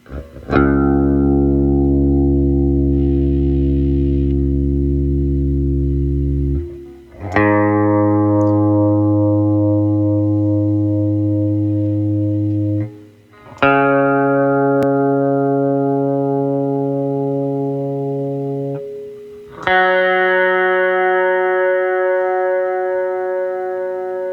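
Four single open guitar strings are plucked one at a time as a tuning reference, each ringing out loud and sustained for several seconds before fading into the next, slightly processed in tone.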